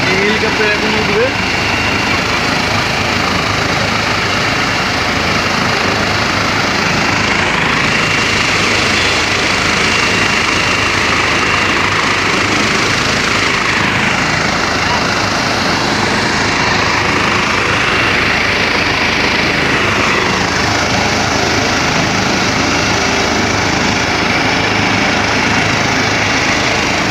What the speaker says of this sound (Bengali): আপনাদের সামনে হেলিকপ্টার এখন যাওয়ার প্রস্তুতি নিচ্ছেন।